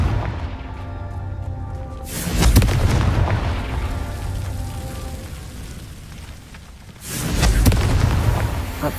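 Two deep, booming explosions from the Confringo fire spell in Hogwarts Legacy, each a loud burst with a rolling rumble that fades slowly, a few seconds apart.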